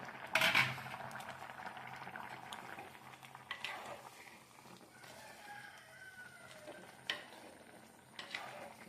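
Pieces of pumpkin and green gram curry are stirred in a pot, producing soft, occasional scrapes and knocks over a quiet background bubbling, with a louder clatter near the start.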